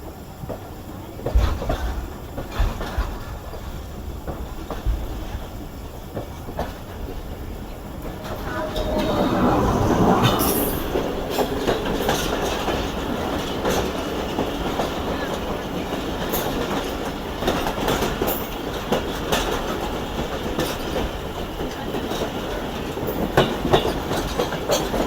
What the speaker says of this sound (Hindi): ये आ गई है जी 42 डाउन कराकरम एक्सप्रेस